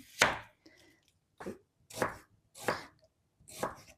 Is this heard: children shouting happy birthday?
no